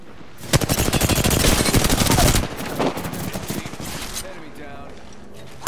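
Rapid automatic gunfire in Apex Legends rattles loudly for about two seconds, followed by scattered, quieter shots and game sounds while a player talks over the action.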